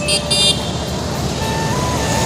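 Busy street traffic rumbles steadily at close range, with a car horn tooting a couple of short beeps near the start over the continuous engine and road noise.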